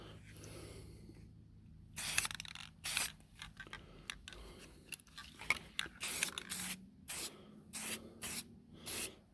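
Rattle-can primer hisses onto an SD40-2 model locomotive in a series of short, close bursts separated by brief pauses, sprayed from different angles.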